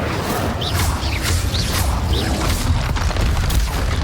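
Repeated Incendio fire spells cast in the video game Hogwarts Legacy produce loud, dense booming bursts with whooshing flame sounds and brief high sparkling accents, continuous and close throughout.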